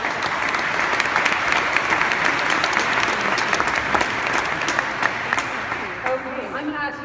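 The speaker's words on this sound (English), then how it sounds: "let's give these guys a huge round of applause." Audience applause for a startup pitch team on stage at a pitch event, a loud sustained crowd clapping that holds steady before thinning out toward the end, with a voice starting over the fading claps.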